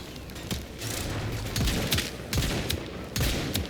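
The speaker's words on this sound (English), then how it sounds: "Who's shooting at me?" Rapid bursts of gunfire and booming impacts from a Warframe firefight on Steel Path, loud and sustained in overlapping volleys.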